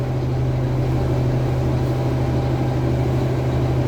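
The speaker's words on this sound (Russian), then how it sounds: "Мотор идет в нагрузку." A K-700 tractor engine, freshly repaired, runs under load with a steady low drone and a strong hum, holding constant and fairly close throughout with no talk.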